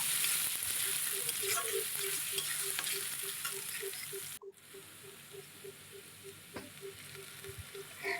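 Mixed vegetables with grated ginger and chopped green chilli sizzle in oil as they are stirred for fried rice, a quiet steady frying hiss with regular scraping and tapping strokes and a brief break partway through.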